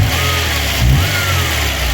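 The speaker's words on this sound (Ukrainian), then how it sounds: "Ось так працює двигун" A VAZ 21099 car engine runs steadily at idle, close and loud, a constant low hum with a slight rise in the middle and no talking.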